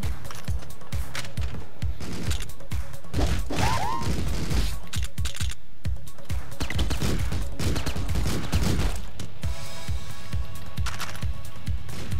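Rapid machine gun fire in the top-down game Streets of Rogue, a steady run of close, punchy shots in quick succession with clattering mechanical sounds mixed in, loud throughout.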